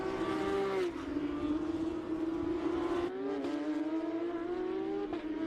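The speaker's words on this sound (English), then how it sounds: "Is there anything better than hearing flat 6 engines?" Porsche 992 Cup cars with 4-litre naturally aspirated flat-six engines drone steadily on a formation lap, a sustained tonal engine note shifting pitch a few times as the cars roll past at moderate distance.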